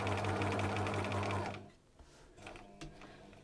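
Close by, a sewing machine stitches a small fabric gift label in a steady whirring run that stops partway, leaving quieter handling noises afterward.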